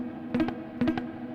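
Two quick bursts of muted, dead-sounding strummed notes on a distorted electric guitar, each a short triple scrape over a steady amp hum, fairly quiet and alone.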